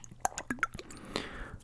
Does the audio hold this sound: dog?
no